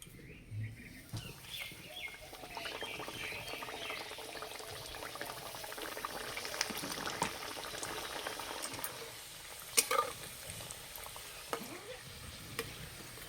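Cabbage-stuffed paratha frying in lukewarm oil over low heat gives a faint, steady hiss with soft bubbling and a few light taps, distant and quiet throughout.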